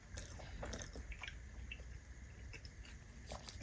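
Someone bites and chews air fryer pizza up close, with soft, moist, irregular chewing and squishing sounds at low level.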